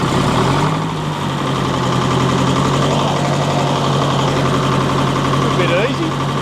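A large two-stroke diesel-electric earthmover engine runs steadily at idle, a deep, even throbbing rumble close by, with a brief faint voice partway through.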